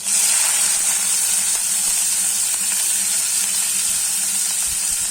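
Finely chopped onion sizzles loudly in hot oil with browned cumin seeds, a close, continuous bright hiss and crackle that stays strong throughout and fades only slightly, with no talking.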